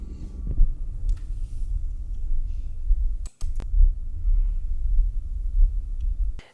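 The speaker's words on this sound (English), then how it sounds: "We have a robot vacuum." A robot vacuum recorded with a LOM Geofon geophone, a steady low mechanical rumble with faint clicks and brief sharp knocks partway through, like a small machine moving across a floor.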